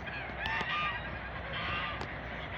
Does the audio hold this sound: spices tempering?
no